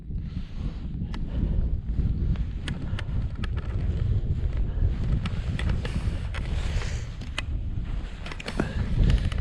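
Wind buffeting a tent and microphone at a wild camp pitched on a mountainside in Assynt, a continuous low rumbling roar with scattered flaps and rustles, close and fairly loud, with no talk.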